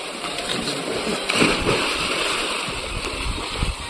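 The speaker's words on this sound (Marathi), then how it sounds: "हार्दिकाने अशी उडी घातलेली आहे मस्तपैकी." A person jumps into the water of a lake in Achara village, with one splashing burst partway through, set against steady broadband wash and wind noise.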